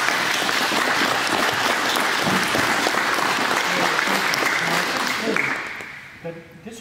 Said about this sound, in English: I think everybody here should give a round of applause.